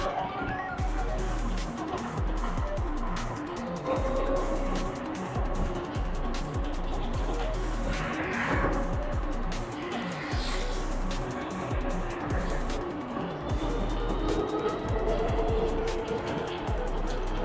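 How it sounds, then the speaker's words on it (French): Cars crawl in a traffic jam on a French road, a steady close engine rumble and road noise throughout, with a person talking over it. "Ouais, il y a un bouchon."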